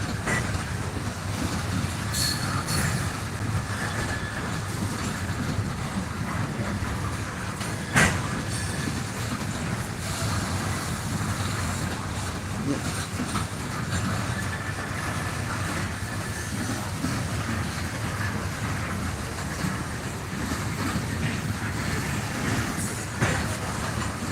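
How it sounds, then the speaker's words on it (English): A long train passes trackside at Mount Hope, West Virginia, with a loud, continuous rumble of railcars rolling by up close, broken by occasional clicks and faint wheel squeals over the full length. "Must be the train that went up yesterday that I missed."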